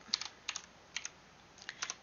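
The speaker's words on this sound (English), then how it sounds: "I'm going to type the quadratic formula" Typing on a computer keyboard while entering a math formula, several short bursts of crisp key clicks in pairs and triplets, close and moderately loud, with no talking.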